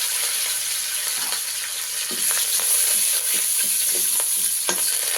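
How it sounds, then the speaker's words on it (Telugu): Curry leaves hit hot oil already tempering urad dal and dried red chilies for a beetroot chutney. A steady, loud sizzle runs throughout, with a few sharp crackles and stirring clicks near the end. "ఇప్పుడు మినపప్పు ఎండుమిరపకాయలు అన్నీ బాగా వేగిపోయినాయండి. 2 రెబ్బలు కరివేపాకు వేసేస్తున్నాను"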